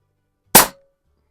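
A single sharp shot from a Pinty Striker .25 caliber bullpup air rifle, one loud crack with a short decay and a faint lingering ring, otherwise silence.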